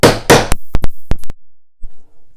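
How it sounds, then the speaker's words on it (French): A small hammer strikes a hole punch to make a hole in scrapbooking paper. The few sharp, close taps come in a quick cluster, followed by one lone tap after a brief pause. "je pose mon emporte-pièce. J'ai un petit marteau."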